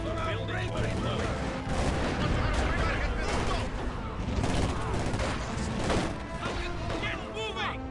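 Gunfire and artillery in the Company of Heroes 2 video game, a dense continuous barrage of shots and explosions with crashing impacts, loud throughout, while soldiers shout orders over the battle.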